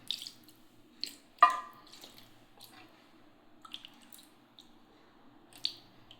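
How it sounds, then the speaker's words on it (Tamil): Rosewater poured over deity idols during a Hindu abhishekam ritual, heard as scattered drips and small splashes in a quiet room, with a few sharper plops. "நம்ம இப்போ எல்லாத்துக்கும் கடைசியாக பன்னீர் ஊற்றி அபிஷேகம் பண்ணுறோம்"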